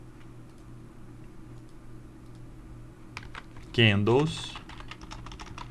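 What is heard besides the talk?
typing on a computer keyboard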